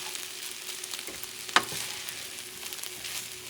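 Rice with scallops and chickpeas cooking in a pan over heat just below medium, a soft steady sizzle with one brief sharp pop, heard alone.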